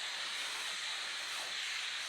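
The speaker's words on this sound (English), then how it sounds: "As you can see how much steam is coming out, it's very powerful." Steam cleaner blasting hot steam onto a fabric sofa, a loud, continuous broadband hiss that holds steady without a break from start to finish.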